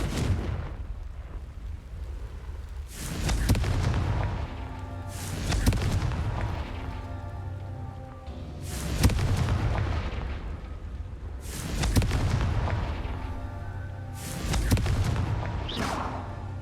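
Repeated Confringo blasting-spell explosions from the video game Hogwarts Legacy, five heavy booming bursts spaced a few seconds apart, each with a rumbling decay over a steady low game-music background.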